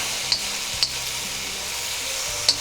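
Garlic frying in a wok for a Chinese stir fry makes a steady, close hiss of sizzling oil, broken by three quick ticks of stirring.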